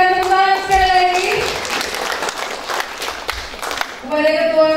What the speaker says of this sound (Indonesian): Kita berikan tepuk tangan sekali lagi